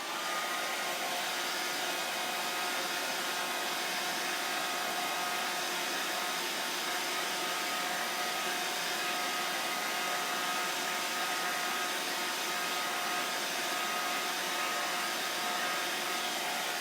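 A hair dryer runs continuously at close range, a steady, loud, even blowing whir with no pauses or voices across the whole stretch.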